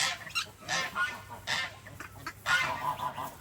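A female guinea fowl at a farm animal sanctuary gives a series of harsh, honking calls in uneven bursts, fairly close and loud, with quieter farmyard background between them.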